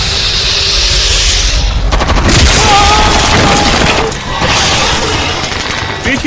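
Loud movie battle gunfire, with dense cracking bursts and heavy booms filling the scene, broken up by sharp impacts and rumbling blasts.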